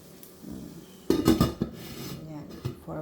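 A metal lid is set back on a Salad Master skillet with a sharp clatter and scrape, followed by a few softer knocks and rattles in a quiet kitchen.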